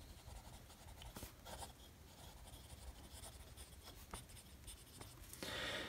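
Steel nib of a Faber-Castell Neo Slim fountain pen writing Waterman Serenity Blue ink on paper, a close, steady dry scratching with short strokes and lifts, louder toward the end.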